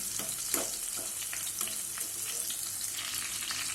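Chivda ingredients fry in hot oil in a pan, giving a continuous close sizzle with faint stirring scrapes throughout, moderately quiet, with no speech.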